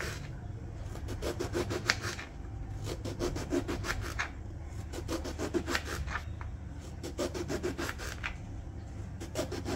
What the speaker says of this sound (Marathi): वांगी मी कापून घेते आधी